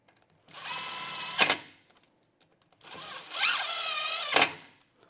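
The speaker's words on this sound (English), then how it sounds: "you just snug them with an impact" An impact wrench snugs rail bolts on a mounting bracket in two close, loud bursts, each a steady whirring run of about a second that ends in a sharp hammering spike, separated by a short pause.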